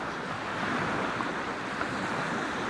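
Sea waves wash onto a sandy beach near Çanakkale, forming a continuous broad hiss of surf mixed with wind noise and no voices.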